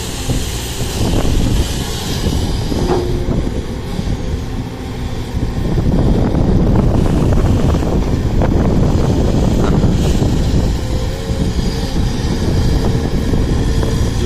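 Strong wind blows hard into the microphone by the water, a loud continuous buffeting roar that swells and gusts over several seconds with no talk.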